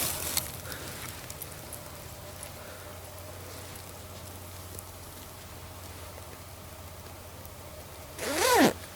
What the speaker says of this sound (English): I'm gonna set the camera down for a minute to zip up my jacket